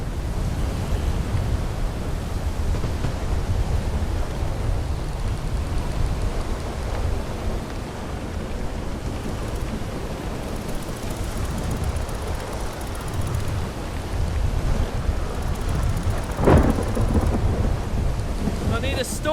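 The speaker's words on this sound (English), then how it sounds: "The wind's too strong." Strong storm wind roars steadily across open sea in a video game, a dense continuous rush with gusty swells and a brief sharp burst near the end, no voices.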